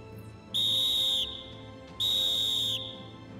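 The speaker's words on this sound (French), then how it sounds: "Avant la mise à feu, 4 coups de sifflet bref" Two sharp, shrill whistle blasts, each under a second long and evenly spaced, sound loud and close before a blasting fuse is lit, with a quiet outdoor background in between.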